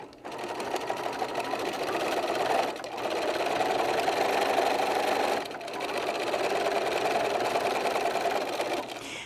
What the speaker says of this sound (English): I'm going to go to the sewing machine